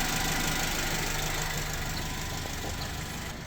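A 2022 Kia Bongo truck with a factory propane engine meeting Euro 5 spec idles with a steady, even low hum and faint mechanical rattle, heard close up, unbroken for a few seconds.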